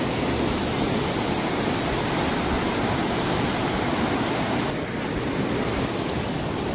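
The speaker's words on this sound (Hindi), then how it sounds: "माँ गंगा का जो उफान है देवप्रयाग में देखने वाला है।" The Ganges rushes and roars at the Devprayag confluence in Uttarakhand, a steady, loud wash of turbulent water that fills the whole scene without any talk.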